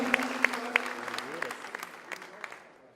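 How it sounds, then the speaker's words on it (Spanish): Scattered, sparse clapping from a forum audience at an inaugural panel, a few sharp claps standing out early and then thinning, fairly faint, with a voice talking over it. "Fuerte el aplauso."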